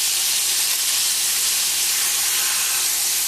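Black cod fillets frying in a hot pan just after being turned over, giving off a steady, bright sizzle and hiss that stays even and close throughout with no voices.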